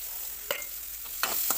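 Chopped big onion fries in hot oil with a constant soft sizzle, broken by a few sharp scraping strokes as it is stirred in the pan.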